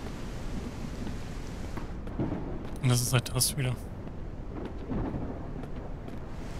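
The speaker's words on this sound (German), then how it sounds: "Dieses Gewitter, ey." A thunderstorm in the survival video game Mist Survival: a steady rain hiss runs throughout, and a louder thunder rumble swells in the middle. Someone talks over it.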